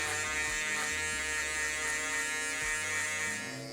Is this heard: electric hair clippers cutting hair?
yes